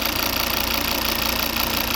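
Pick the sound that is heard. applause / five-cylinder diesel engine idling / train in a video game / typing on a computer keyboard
five-cylinder diesel engine idling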